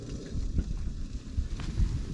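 Wind blows across an outdoor al fresco dining spot with a view, a soft gusty rush buffeting the microphone in uneven low-pitched puffs.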